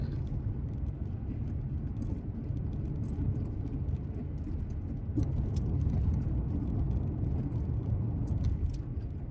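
A car drives along a road at dusk near Naselle, Washington, heard from inside as a continuous low rumbling road and engine drone, steady throughout with faint interior noises and no talk.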